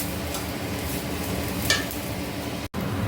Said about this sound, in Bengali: একটু ম্যাগিটাকে আমি ভেজে নিচ্ছি এখানে